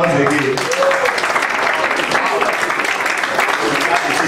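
Audience clapping at a church gathering, a continuous dense wash of applause close and loud, with voices mixed in underneath.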